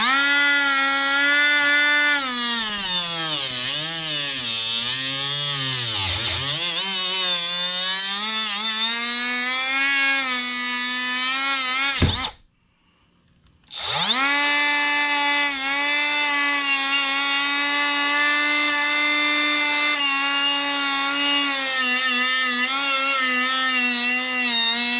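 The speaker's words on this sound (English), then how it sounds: "One tool that I picked up this year was this Milwaukee cutoff wheel" A Milwaukee cutoff wheel screams loud and close with a steady high whine that dips in pitch as it bites, stops for about a second, then spins up and runs steadily again.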